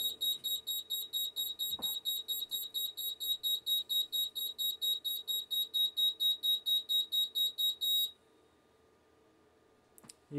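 An Apollo Discovery fire alarm sounds during a heat detector test, giving a rapid run of loud, regular high-pitched beeps for about eight seconds before it is silenced, leaving a faint hum and a brief click.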